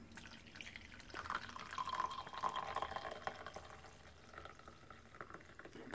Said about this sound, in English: So I'm going to pour in there.